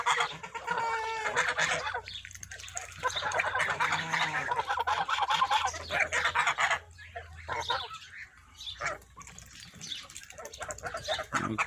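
Kholmogory geese, breeding adults kept with goslings, honk and cackle loudly and continuously, with overlapping calls and clucking from nearby fowl filling the whole stretch.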